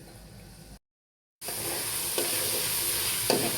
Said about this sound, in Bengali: এটা নরম হওয়া পর্যন্ত নাড়াচাড়া করব তৈলের ভিতরে।